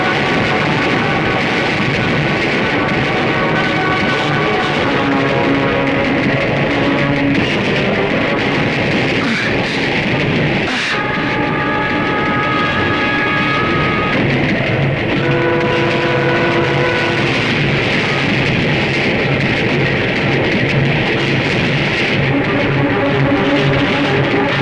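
A train passing in a Hindi action film, a loud sustained rumble and rattle of wheels with tonal whining and clanks, mixed with dramatic soundtrack tones throughout.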